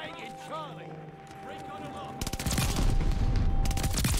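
Gunfire from an Itra Burst rifle in the first-person shooter Call of Duty Vanguard, a loud rapid volley of close shots that starts suddenly midway through a quieter stretch of game sounds.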